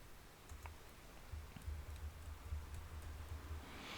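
A computer keyboard is typed on in a quiet, close series of soft, rapid clicks, light and uneven over a faint background hum.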